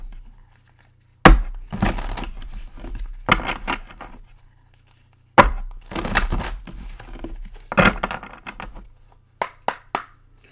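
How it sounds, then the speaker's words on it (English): Oracle cards being shuffled by hand, in repeated papery riffling and crinkling bursts, close and fairly loud, with short silent pauses between them and a few quick final taps. "I do a lot of shuffling."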